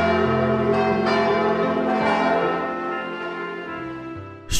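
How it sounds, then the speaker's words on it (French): Church bells at Saint-Vincent-de-Paul swing in full peal, several bells clanging and overlapping in a rich, continuous ringing that gradually fades near the end, with no speech. "les cloches sonnent à la volée"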